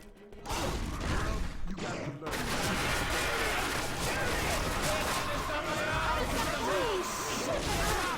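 Gunfire rattles through a Left 4 Dead 2 competitive match, rapid bursts and mechanical clatter filling the game audio, with a voice speaking over the action.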